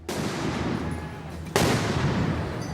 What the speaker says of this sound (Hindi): भीड़ को खदेड़ने के लिए पुलिस ने आंसू गैस के गोले और धमाका करने वाले ग्रेनेड दागे